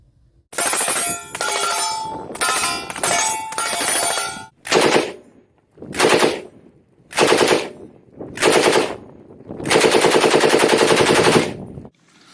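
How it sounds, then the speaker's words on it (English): A fully automatic machine gun fires in about nine loud, close bursts separated by short pauses, ending in one long sustained burst. "you still can't own a fully automatic machine gun"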